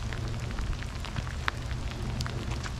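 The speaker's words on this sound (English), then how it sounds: "It's a rainy day out here in Houston." Steady rain falls outdoors on a rainy day in Houston, a dense, even patter with scattered sharper drops and no voices.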